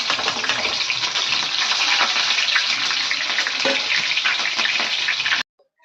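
Loud, steady sizzling of garlic frying in hot oil, a dense crackling hiss that runs continuously and then cuts off abruptly.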